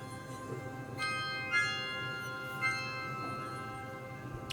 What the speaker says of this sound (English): Chimes and strings and it's like spa music.